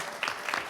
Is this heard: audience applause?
yes